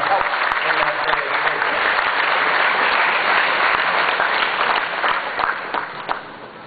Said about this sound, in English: I ask you to give them a round of applause